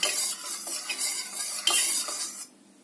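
Milk is stirred into yogurt in a bowl to set curd, a close, continuous swishing scrape of a spoon with small clinks that stops abruptly near the end.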